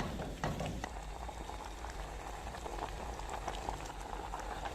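A pot of kheer with vermicelli, dates and half a kilo of sugar boiling on a stove, a continuous close bubbling and popping simmer with a few sharper pops near the start.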